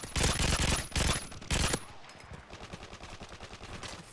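MG36 machine gun firing in Modern Warfare 3, three loud rapid bursts in the first two seconds followed by quieter continuous game gunfire and background battle noise.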